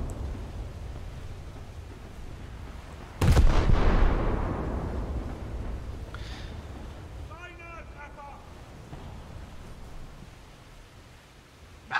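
Naval artillery in the World of Warships video game, one heavy booming shot followed by a long rumbling decay over wind and water ambience, with a brief voice later.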